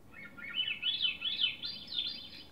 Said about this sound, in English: It's a thrush, and it's called a Swainson thrush.